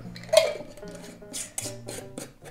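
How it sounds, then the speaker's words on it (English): A pot lid clinks onto a pot of beetroot kvass, several sharp metallic taps and rattles close by, with faint background hum. "So our kvass is ready, and I'm just gonna put a lid on it."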